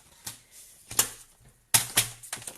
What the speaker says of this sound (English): I need to cut this down to 5 7/8